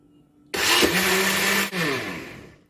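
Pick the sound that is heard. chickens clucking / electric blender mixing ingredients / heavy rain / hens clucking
electric blender mixing ingredients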